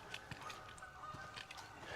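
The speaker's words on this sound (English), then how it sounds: "I can hear some geese." Geese honk outdoors at a distance, several faint, scattered calls over a quiet open-air background.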